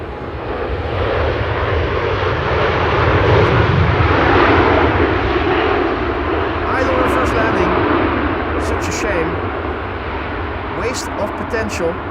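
A 17-year-old airliner taking off at Amsterdam Schiphol Airport, its engines producing a steady, loud broadband roar that swells slightly mid-way and holds, with faint clicks near the end.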